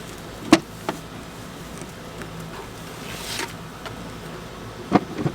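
Honey bees around a hive, a faint, continuous buzzing close by, broken by a few sharp knocks and taps from handling the hive boxes.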